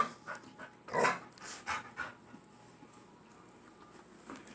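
Two pit bulls pant and huff in quick, close bursts while tussling over a toy, the breathing loudest early on and fading to quieter snuffles.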